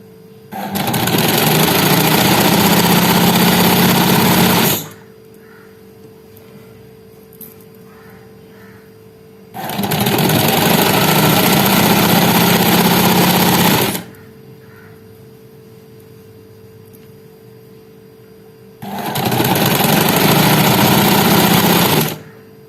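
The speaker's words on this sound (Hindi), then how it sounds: "इसी तरह हम इसकी सिलाई कंप्लीट करेंगे" A sewing machine stitching a slit in a collar runs in three loud, steady bursts of about five seconds each, separated by quiet pauses, close by with no voices.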